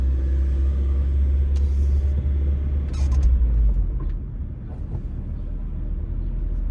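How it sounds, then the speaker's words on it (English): A car rolls down Springfield Avenue in Philadelphia's Chestnut Hill neighborhood, with a deep, steady road rumble and engine hum from inside the cabin, easing slightly partway through. "So we're driving down Springfield Ave"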